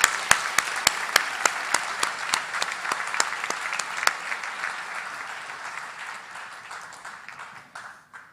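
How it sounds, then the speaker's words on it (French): A university graduation audience applauds the master's degree graduates, a dense, sustained round of clapping with crisp individual claps early on, slowly fading and tapering toward the end, without speech. "applaudissons chaleureusement les diplômés de la maîtrise"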